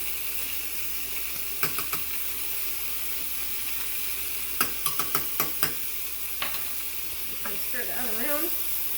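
Tomato paste and minced garlic stirred in a hot pan for Cajun chicken stroganoff, a quiet sizzle underneath with scattered sharp scrapes and taps of the utensil against the pan, growing busier toward the end.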